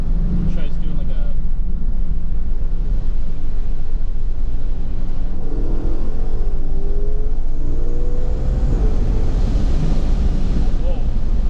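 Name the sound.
car driving and accelerating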